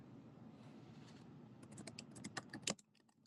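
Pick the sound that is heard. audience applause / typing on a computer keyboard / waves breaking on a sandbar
typing on a computer keyboard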